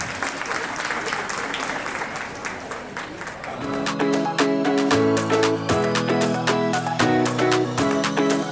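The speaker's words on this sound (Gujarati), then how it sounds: "તો એવા ઇન્દુબેન માટે એકવાર તાળીઓ થઈ જાય" At a community stage event, an audience applauds to welcome a judge. The clapping is steady and fairly loud, and after a few seconds instrumental music with sustained notes enters beneath it.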